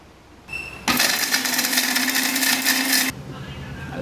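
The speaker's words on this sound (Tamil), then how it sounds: "தேங்காய் கூட 3 பச்சை மிளகாய், கொஞ்சம் கடுகு போட்டு நல்லா நைஸாக அரைக்கணும்." A kitchen blender grinds coconut with green chilies and mustard seeds, a loud steady whirring burst of about two seconds between quieter rattles.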